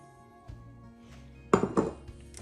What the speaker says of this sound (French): Donc je mélange bien les ingrédients avec les amandes